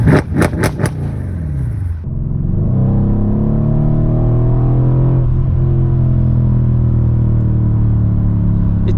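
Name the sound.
Mercedes E63 AMG V8 automatic downshift under braking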